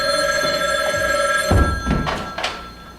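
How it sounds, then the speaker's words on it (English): A telephone bell rings steadily, then stops with a thunk as the receiver is picked up, followed by a few handling knocks. "until the night that phone rang."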